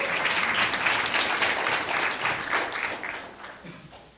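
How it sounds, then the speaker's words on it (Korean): Audience applause welcoming a guest onto the stage at a presentation competition, a dense, sustained burst of clapping that stays strong and then gradually thins out toward the end. "큰 박수로 맞이해 주십시오."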